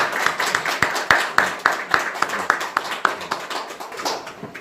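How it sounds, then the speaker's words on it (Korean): A church congregation claps together during a Sunday worship service, a steady run of sharp, fairly close handclaps in an even rhythm that carries on throughout without talk. "우리 크게 박수해 주시기를 바랍니다"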